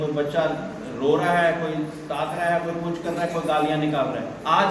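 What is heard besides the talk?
No everyday noises stand out.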